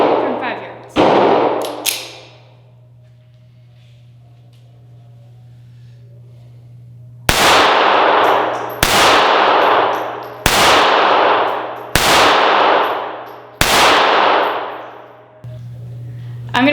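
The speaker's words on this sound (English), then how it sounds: "Now I have the Sig P238 380 aiming at the number 3 from 5 yards." A Sig P238 .380 pistol fires at a steel target from five yards. Two quick early shots are followed by a pause, then five evenly spaced loud shots, each with a ringing metallic clang that fades over a steady low hum.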